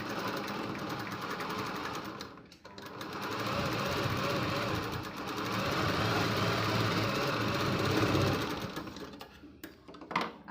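A sewing machine stitches a tuck along a strip of blouse fabric, its rapid mechanical chatter running in long bursts that pause, resume, then stop as it sits close and loud.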